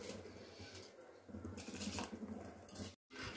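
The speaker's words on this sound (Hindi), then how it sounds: "अब इसके अंदर हम चावल डालेंगे।" Soaked rice tipped into a pot of boiling water for bagara rice, giving a continuous splashing, watery wash with rising and falling intensity and a brief silent gap near the end.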